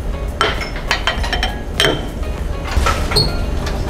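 Dry dough ingredients, milk powder, sugar and flour for cromboloni pastry, being stirred in a bowl, with scraping and clinking taps against the bowl sides in uneven bursts, fairly close, no talking.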